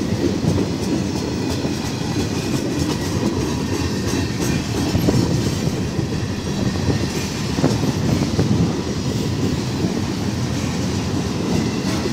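A Canadian National freight train with coal and lumber cars rolls past close by in Effingham, Illinois, with a continuous heavy rumble and rhythmic clickety-clack of wheels on rails, one car having a bad wheel, steady throughout with no voices.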